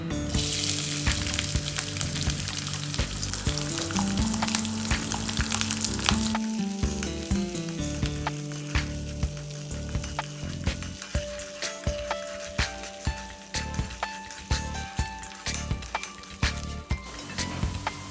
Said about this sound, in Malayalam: നെയ്യിട്ട് നമുക്ക് ഈ തേങ്ങാക്കൊത്ത് വറുത്തെടുക്കാം.